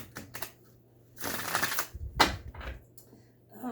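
Tarot cards being shuffled by hand, heard as soft papery riffles and flicks in a few uneven bursts, fairly quiet and close, with no talking.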